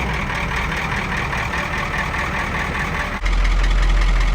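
An old Caterpillar V8 diesel dump truck engine runs steady and loud, then suddenly shifts to a deeper, heavier rumble partway through, on a cold day.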